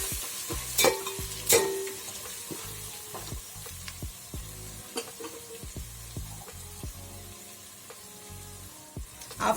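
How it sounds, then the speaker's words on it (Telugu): Mint and masala frying in a pan for prawn biryani, a steady sizzle broken by repeated scraping stirs and a few sharp clinks of the spoon against the pot, close and fairly loud, with no talking. "పుదీనా వేసుకోవాలి. మొత్తం ఫ్రై చేసుకోవాలి."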